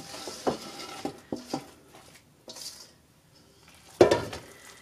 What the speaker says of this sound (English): Put it in a casserole dish,